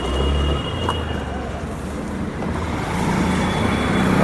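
A vehicle drives along a road on the way to an RTO heavy-licence driving test in Pune. The traffic and engine noise is continuous and moderately loud, with a brief low thump near the start.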